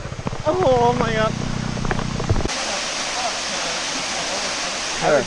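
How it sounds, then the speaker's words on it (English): A waterfall beside a mountain road rushes in a steady broadband roar, heard alone after a loud burst of overlapping voices and a brief tonal hum at the start. "Waterfall break."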